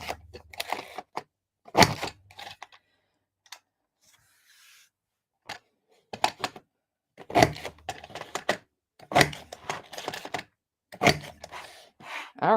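A scrapbooking paper machine running with paper loaded in its tray, making bursts of clattering mechanical whirring separated by short quiet pauses.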